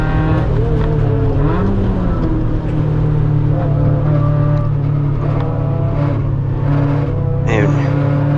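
Race car at Mid Ohio braking and then getting back on the throttle, its engine droning loudly and steadily from onboard, pitch dipping and climbing again, with a voice talking throughout.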